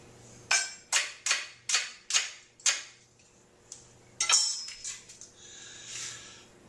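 Knife chopping through onion on a cutting board for butternut squash soup, about seven crisp evenly spaced cuts, close and clear, followed by a few scattered lighter knocks and handling sounds.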